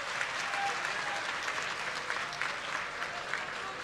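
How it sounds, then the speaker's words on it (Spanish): Audience at a government housing and community dining hall handover ceremony applauds, a continuous even wash of clapping from a sizable crowd, moderately distant and unbroken throughout. "Así que un aplauso."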